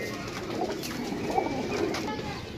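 Pigeons cooing softly at a loft in Gujrat, low murmuring coos rising now and then over a steady background hum, with faint voices nearby.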